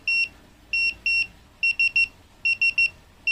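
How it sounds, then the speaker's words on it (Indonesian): Electronic countdown timer alarm on a Ticktime cube smart timer beeping in sharp, high-pitched bursts, grouped in quick runs of two and three with short gaps between. "alarm akan berbunyi otomatis"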